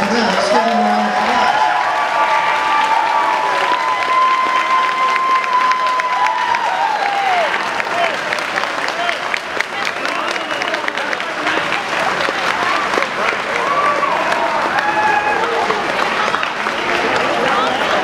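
An audience at a Perkins High School band concert claps loudly and steadily for the whole stretch, a dense wash of applause with scattered whoops and voices mixed in.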